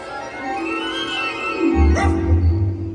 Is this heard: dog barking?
yes